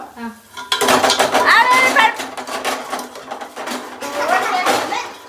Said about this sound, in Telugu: ఇట్లా కొడతారు కదా గిన్నెని.